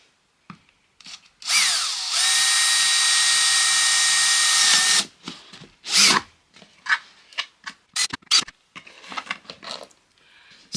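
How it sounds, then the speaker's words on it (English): A power drill with a steel bit whines steadily for about three seconds while boring into a plastic strawberry planter, followed by scattered scraping, rubbing and clattering handling noises. "So let's just start drilling some holes."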